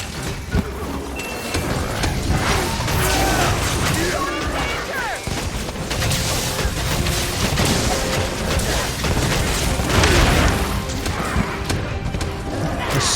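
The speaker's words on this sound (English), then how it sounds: "So much explosion going on there, I can't even see what's happening." Explosions in the Monster Hunter Rise: Sunbreak video game make a dense, continuous barrage of booms, crashes and thuds over a busy backdrop of other battle sounds, loud throughout with no pauses.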